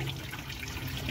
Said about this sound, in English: Now this is draining the whole system.